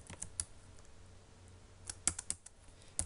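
Computer keyboard typing, a scattered run of light clicks and a few sharper key presses, close and fairly quiet with no talking.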